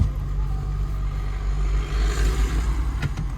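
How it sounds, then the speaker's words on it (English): A 2nd-generation Toyota Prius 1.5-litre hybrid has its petrol engine start up under hard acceleration, a steady low drone that swells and pulses slightly as the car pulls forward, with no voices. "You can hear the engines come on, but that's because I'm pressing the accelerator quite hard to move the car forward"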